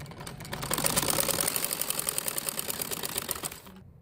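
A sewing machine stitches a gharara garment in one fast, even run of rapid mechanical ticking that starts abruptly, holds steady for about three seconds and then stops, close and clear with no talking.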